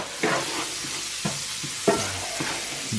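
Shallots sear and caramelise in a hot pan for a peppercorn sauce, a steady sizzle broken by several distinct stirring scrapes.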